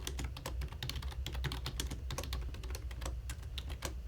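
Fingers type on a computer keyboard in rapid, continuous clicks, close and clear with no talk over it.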